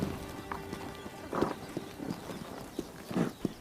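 Hooves of a wild horse in Mongolia, scattered soft clip-clop steps on the ground, a few heavier thuds among quieter footfalls, fairly faint and close.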